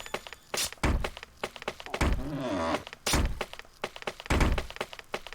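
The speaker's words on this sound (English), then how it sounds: "What the bollocks is that knocking sound?" Knocking in the video game Mary Skelter comes as a series of heavy, hollow thuds at irregular intervals, loud and close, with a creaking, groaning sweep between them.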